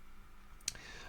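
A computer mouse clicks once, soft and close, in a quiet room while someone works in FreeCAD.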